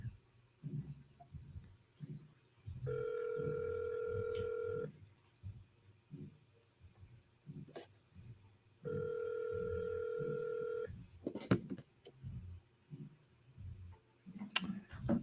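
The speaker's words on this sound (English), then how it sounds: "See, now we're ringing." Two long electronic ringback tones on a phone line, separated by a pause, with soft background noise and faint clicks between them.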